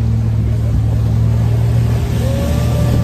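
A speeding motorboat on a lake near Coimbatore, its engine giving a loud, steady, continuous drone throughout, close and unbroken.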